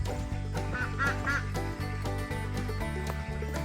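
Ducks quack in a quick run of nasal calls, loudest early on, over steady background music.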